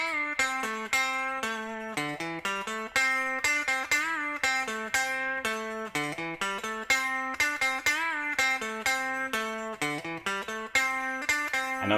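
Clean electric guitar runs a pentatonic lick, quick picked single notes climbing and repeating in a steady rhythmic phrase, close and moderately quiet with no voice.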